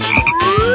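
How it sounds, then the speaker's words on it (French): A toad gives a single close, loud croak, a short rough call with a rising tone running under it, heard alone with no talk. "Non, c'est un crapaud."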